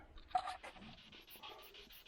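A dog pants nearby in a workshop during an Austin Allegro driveshaft job, soft quick breaths with a faint whimpery edge, quiet and unaccompanied by talk.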